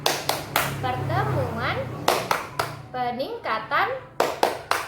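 A group claps a rhythmic pattern while chanting words in unison during a P2K2 family-capacity parenting session in Padang. Sharp, evenly spaced hand claps punctuate the chant throughout, with speaking voices between them.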